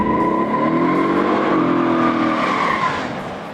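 A 1970 Plymouth Roadrunner Superbird muscle car with a 426 Hemi engine, heard as a loud, steady roar with tire squeal and skidding for about three seconds before easing off slightly at the end.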